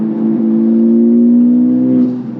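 A Honda Type-R pulls hard at wide open throttle, its engine giving a loud, close, steady droning note that climbs slightly in pitch over about two seconds before easing off, with no voices.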